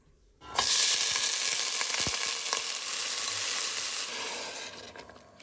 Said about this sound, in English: Now we only need to stir fry it and then add water to it